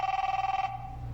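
A telephone rings in a Sears appliance commercial, a short loud electronic trill with a fast pulsing bell that cuts off after about half a second, leaving a low hum.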